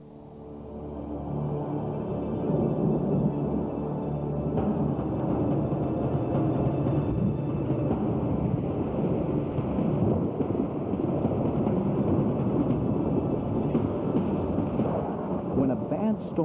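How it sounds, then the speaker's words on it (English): A heavy storm rumbles with thunder and dense, continuous roaring noise that swells in at the start and holds steady and loud throughout, with no voices. "a bad storm is one thing, but a killer storm is something else."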